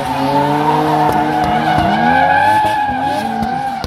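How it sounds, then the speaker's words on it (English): Lexus and BMW race cars at a motorsport festival, engines roaring loud and close with rising and falling revs and tire squeal as they pass. "With Sanam Sekon in the Lexus,"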